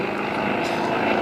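An aerobatic airplane performing at an airshow, its propeller engine droning steadily at moderate distance for a moment with no voices over it.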